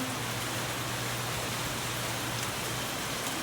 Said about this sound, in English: Rain, it's so beautiful.